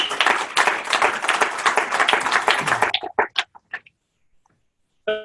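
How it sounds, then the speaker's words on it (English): An audience applauds Tony in a broad, dense burst of clapping that fills the first three seconds, then breaks into a few scattered claps before fading to near silence and a brief final sound. "First, a huge round of applause to Tony!"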